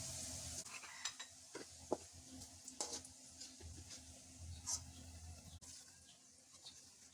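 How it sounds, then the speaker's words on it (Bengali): Fish head curry made with katla fish heads in homestyle muri ghonto style is stirred in a pan with the stove turned off, giving faint intermittent scrapes and soft clinks over a low, quiet background. "চুলাটা বন্ধ করে নাড়াচাড়া করতে থাকছি।"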